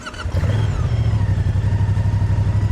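A Moto Guzzi V100 Mandello S motorcycle engine fires up and settles into a steady, loud, throbbing idle close by, with a pulsing low rumble and no talk.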